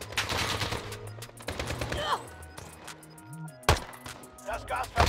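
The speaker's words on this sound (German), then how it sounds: "Zum Vergleich benutzen wir mal die Standard MAC-10." A MAC-10 submachine gun fires in Warzone, with short rapid bursts separated by pauses, fairly quiet and mixed with game sounds while someone talks over it.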